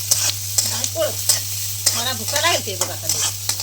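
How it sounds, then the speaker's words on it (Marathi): Onion fries in hot oil with a continuous sizzle and crackle, and there are scraping stirs at intervals. A low steady hum sits underneath, and a few quiet vocal sounds drift in the background. "चला तेल कांदा टाकून घेऊया"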